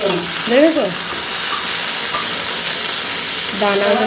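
Continuous close sizzling of pointed gourd and spiny gourd frying in a pan, with brief voice-like tones rising briefly above the hiss at the start and end.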